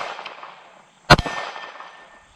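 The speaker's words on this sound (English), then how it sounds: "MGM gong." A 9mm round from a Glock 19 strikes an MGM steel gong target at a shooting range, giving a single sharp metallic clang with a brief ringing tail amid quiet outdoor background.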